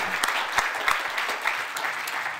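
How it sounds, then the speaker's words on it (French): An audience at an awards ceremony gives steady, moderately loud applause, a dense even patter of many hands clapping throughout with no voices over it. "On vous applaudit."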